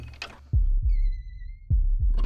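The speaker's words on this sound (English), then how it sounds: "it immediately started playing a heartbeat sound" A slow, deep heartbeat plays in the horror video game Fear and Hunger 2: Termina, with paired thumps at about one-second intervals and a faint high tone between beats.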